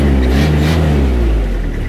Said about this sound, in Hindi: एक्सीलेटर देते हैं